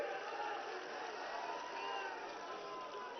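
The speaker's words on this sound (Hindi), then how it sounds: "जोरदार ताली बजाइए।" A large crowd claps and cheers at a Samajwadi Party political rally for Akhilesh Yadav, giving a dense, steady wash of applause that carries on without a break.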